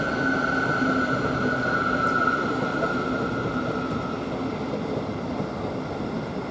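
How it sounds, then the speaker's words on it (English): A Thameslink Class 700 electric train sits or idles at Stevenage station, giving a steady, loud motor and equipment hum with a faint tonal whine over broad rumbling platform noise that holds level throughout. "I will obviously catch this train when it departs out for Horsham"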